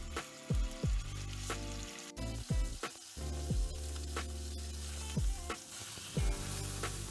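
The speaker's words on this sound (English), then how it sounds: "So very hot pan, vegetable oil, and let's sear it." Pork tenderloin searing in a very hot pan with vegetable oil, a loud steady sizzle broken by repeated low thumps and swells as the meat is moved.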